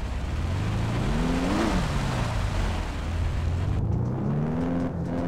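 A loud car engine in Project CARS hums and revs steadily, pitch rising and falling as it accelerates and shifts, played on a force-feedback steering wheel, running continuously.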